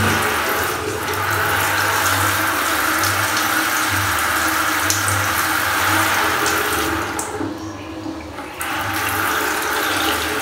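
Water runs steadily from a tap fed by a Stiebel Eltron water heater with no power, a continuous broad hiss with a low hum underneath and a brief dip near the end.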